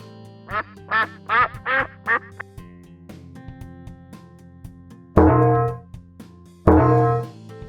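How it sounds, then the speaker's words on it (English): A quick run of five short duck quacks, then a pause before two louder, longer bleating calls close by, in a children's animal puzzle game. "Duck."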